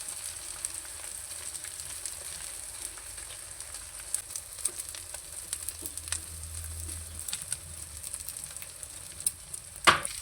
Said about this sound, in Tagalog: Then ilalagay na natin yung ating binating itlog.